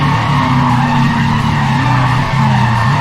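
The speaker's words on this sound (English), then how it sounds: "will you just listen to the raw madness of that engine?" Race car in Need for Speed ProStreet with a loud, sustained engine drone and squealing tire skid running continuously throughout, with no voices.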